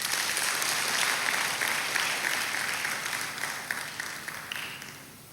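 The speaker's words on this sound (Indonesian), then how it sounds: "Ayo kita kasih tepuk tangan." Sustained applause from a church congregation at a Sunday worship service, broad and even for about four seconds before thinning into scattered claps and fading out.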